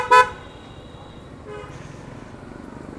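A car horn gives one short, sharp honk at close range, followed by a quieter, fainter horn toot and steady road traffic.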